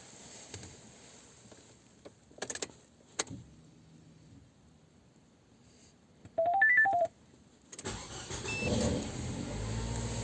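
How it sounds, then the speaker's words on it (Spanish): Quiet clicks and a short run of electronic beeps, then a Nissan Tiida's engine catches and settles into a steady running noise that fills the rest of the clip. "Lo siguiente que van a hacer es arrancar su auto."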